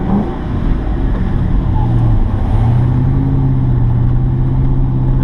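Hot rod cars roll past at a crowded summer car event on the road tour, a steady loud engine rumble with mid-pitched revving swelling and holding throughout, close by and continuous.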